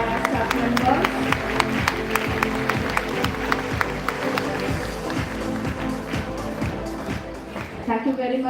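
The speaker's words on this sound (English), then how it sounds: "Applause must go on." At a women's college foundation day award ceremony, an audience claps in rhythmic, sharp beats while music with a steady pulse plays alongside, and voices are heard briefly near the end.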